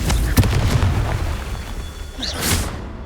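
A blasting spell bursts in Hogwarts Legacy, a sharp boom early on followed by a second rumbling blast near the end, with a low roar between the two impacts.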